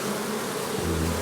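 Honeybees fly around a garrigue apiary in a steady, close buzzing drone that holds throughout, with a slight pitch shift near the end.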